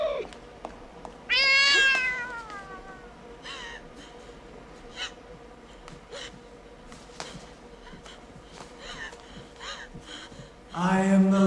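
Black cat meowing: a loud, drawn-out meow near the start and another sharp cry at the end, with faint clicks and rustles in between.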